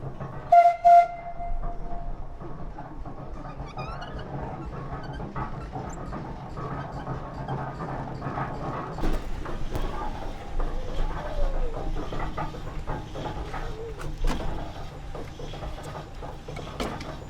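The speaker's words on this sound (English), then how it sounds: "the machine we have behind us is a 1908 Dolbeer steam logging machine" A 1908 Dolbeer steam logging engine, a wood-fired steam donkey, runs steadily with rhythmic chuffing and hissing, opening with a brief shrill whistle blast; mechanical clatter continues throughout.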